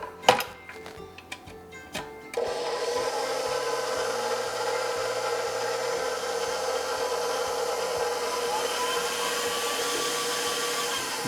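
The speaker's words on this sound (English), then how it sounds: "I'm going to add the salt and I'm just going to give it a quick mix." A stand mixer fitted with a dough hook mixes flour and salt for Dutch white bread rolls, starting with a few light clicks and knocks before a steady motor whir sets in and runs on evenly.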